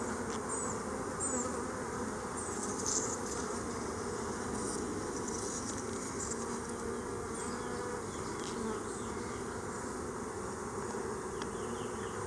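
Honey bees buzzing steadily around open hive frames during an inspection, a dense continuous drone with a few sharper close passes, no talking.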